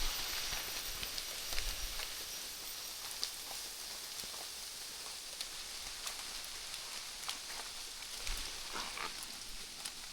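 Heavy overnight rain on a lone bamboo hut, a steady faint hiss of downpour with scattered drop taps and a couple of low thumps, no voices.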